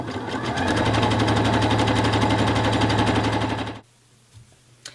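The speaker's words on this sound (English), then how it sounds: "Sewing sort of closer to this side of the elastic, the inside of the elastic." Sewing machine stitching elastic onto a lace longline bra, a loud, fast, steady mechanical rattle of the needle running close for several seconds before stopping suddenly, followed by faint handling noises.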